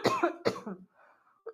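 A person coughs twice, hard and close, then makes a short throat-clearing sound after a brief quiet pause.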